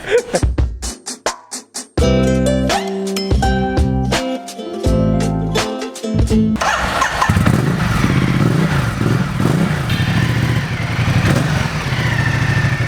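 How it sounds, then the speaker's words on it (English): A Ducati motorcycle engine runs at close range, a steady, loud mid-pitched drone that holds for most of the stretch after some brief louder bursts and a short stop at the start. "So now I'm going to be taking this bike for a short ride."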